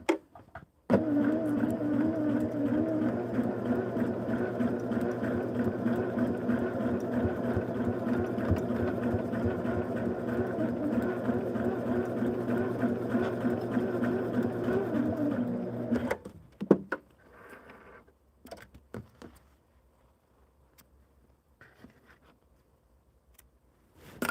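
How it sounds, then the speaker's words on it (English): A sewing machine stitches along a marked line on a quilt piece, running steadily and loud for about fifteen seconds before stopping, followed by a few faint handling clicks in near silence. "Take it to the machine. and stitch on the line."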